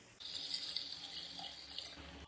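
About a glass of water is poured into chicken cooking in a pan for a karahi-style gravy, making a steady, soft, splashing stream for roughly two seconds with no talk over it.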